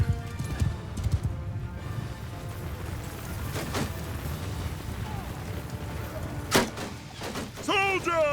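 Horse hooves clip-clop in a Mount & Blade II Bannerlord battle, a steady patter under a busy battlefield din with someone talking over it and a brief whinny near the end.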